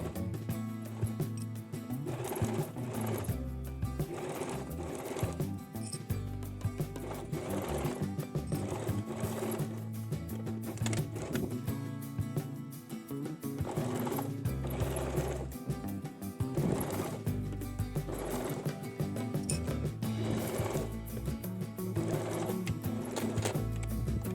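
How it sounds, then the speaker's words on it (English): A sewing machine runs steadily, stitching a straight seam through denim from old jeans, its motor hum and needle rhythm continuous and close for the full stretch, with no talking. "Sew a straight stitch with a 1 cm seam allowance."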